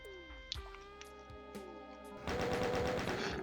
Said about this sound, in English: Let me actually get out the chain gun.